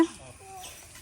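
A chicken clucks in a short, close burst at a home yard, with soft rustling and faint background voices beneath it.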